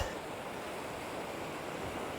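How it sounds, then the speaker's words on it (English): Atlantic Ocean surf breaking along the shore at St. Simons and Jekyll Island, a steady broadband wash with wind buffeting the microphone, continuous and fairly close, no voices. "We have actually made it out to the beautiful Atlantic Ocean"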